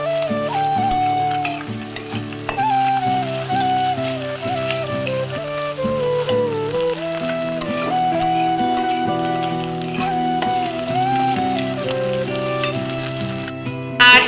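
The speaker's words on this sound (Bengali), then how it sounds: "এটা আমি ভালো করে ফ্রাই করে নেব ডিমটা" An egg fries in oil over a high flame for a mixed fried rice dish, with a steady sizzle running beneath louder melodic background music throughout.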